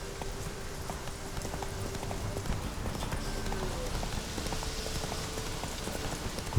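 Geralt's horse Roach from The Witcher 3 gallops in a steady clip-clop of hooves, moderately close, over a continuous patter of rain with faint game ambience and no talk.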